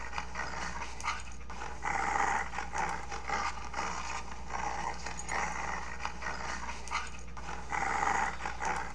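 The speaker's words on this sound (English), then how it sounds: "Still hear the freaking dog." Dog growling and barking in a horror video game, set in an office and air vents, heard as a steady rumbling growl with barks rising in bursts over a constant low hum, fairly close and loud throughout.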